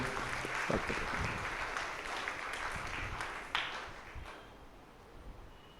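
A church congregation at Sunday service applauds in thanks for the Mother Teresa women's association, a soft, diffuse patter of clapping heard from a distance in a reverberant hall, fading gradually.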